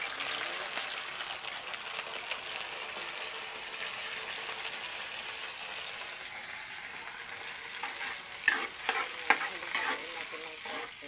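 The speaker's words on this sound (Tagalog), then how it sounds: "Haluin natin ng konti." Vegetables sizzling in a pan while being stirred, a continuous frying hiss with a few scraping clatters of the utensil near the end, no speech.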